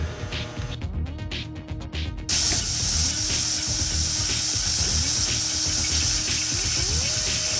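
A shop vac roars steadily, drawing brake fluid out through the bleeder nipple of an ATV front brake line, with loud continuous hiss and whine after a brief stretch of mechanical clicking and rattling at the start.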